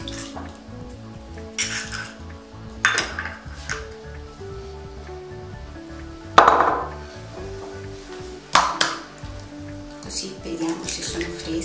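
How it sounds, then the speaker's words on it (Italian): Five whole eggs cracked one at a time into a bowl for a pineapple cake, giving a few sharp, close taps and cracks spaced apart over background music. "Poi mettiamo le uova, le 5 uova intere. Le apriamo una per volta."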